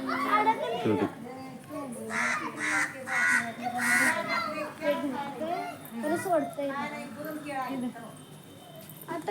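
A crow caws repeatedly in a village setting, its harsh calls mixed with the chatter of children and people talking nearby.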